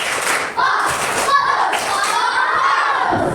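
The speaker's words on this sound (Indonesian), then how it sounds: "Ya, sekarang ibu buat. Tepuk fokus." Classroom pupils do a chanted clapping routine led by their teacher, with thuds and claps blended into loud children's voices and shouting throughout, close and crowded.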